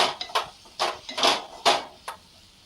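A spoon scraping and clinking against a pan while salt is stirred into aloo palak, several short separate metallic strokes in an uneven rhythm, close and moderately loud with no talking.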